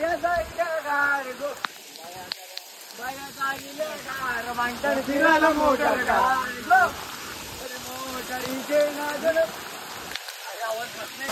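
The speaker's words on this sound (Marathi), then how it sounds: "खूप म्हणजे खूप पाऊस पडलाय." Steady rain patters across the whole stretch as several people talk over it at close range.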